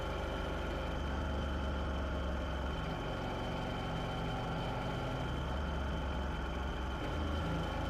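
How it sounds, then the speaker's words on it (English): A motorcycle engine drones steadily and loudly while the bike is ridden along a winding road with sharp corners. The sound is continuous and close, and no one speaks. "Let me have a little bit of fun handling of the motorcycle on these turns"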